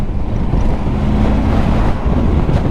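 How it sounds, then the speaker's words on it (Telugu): Strong wind roars into the microphone during a motorcycle ride near Haines Junction in Canada, where blowing dust and sand make a loud, continuous buffeting rush with no speech. "గాలి దుమ్ము"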